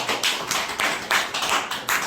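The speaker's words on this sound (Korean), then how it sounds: "제 말이 맞으면 박수 한번 쳐주세요." A small audience at a company lecture claps in a rhythmic unison pattern, sharp bright claps repeating roughly every quarter second, close and moderately loud.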